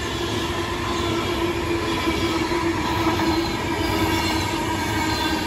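A train running through Bletchley station, a steady loud rumble of wheels and carriages with a high squealing tone held throughout, close and continuous with no speech.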